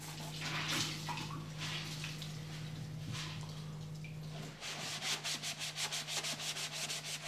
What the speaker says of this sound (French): avant de commencer à laquer, vous poncez encore le tout